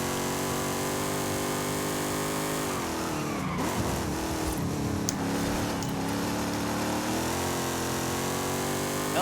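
A Chevrolet Camaro racing in Forza Horizon 5, its engine roaring loud and constant, revs dropping and climbing again mid-run with brief tire squeal, no voices.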